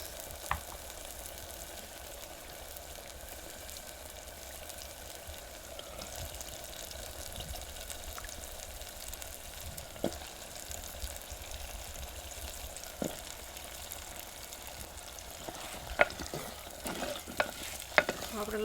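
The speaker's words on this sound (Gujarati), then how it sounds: "હવે આપણે આમાં લસણ નાખી દઈએ." Garlic goes into masala frying in a clay pot and is stirred, giving a soft, steady sizzle with occasional scraping clicks of the spoon, quiet and close, without talk.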